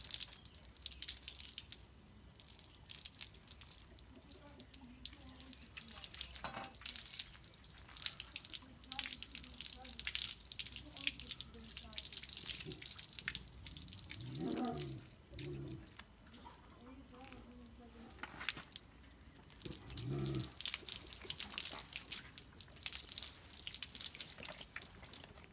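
Water runs steadily while a Cane Corso dog's head is being wetted during a bath, a fairly quiet splashing stream with irregular drips and splatters, and a person speaks briefly over it.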